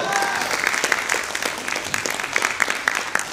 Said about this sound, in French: On l'applaudit très fort, bravo Greg!